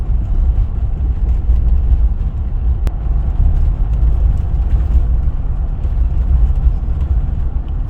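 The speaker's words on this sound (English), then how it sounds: "as long as your car keep rolling or driving." A 2021 Jeep Wrangler diesel cruises at steady speed, giving a continuous low engine and road rumble that stays loud and even throughout, with no talk over it.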